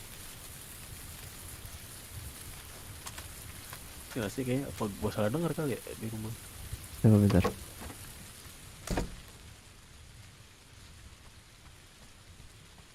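Steady rain hiss falls outside a house, a constant broadband wash running throughout, with someone talking over it briefly partway through.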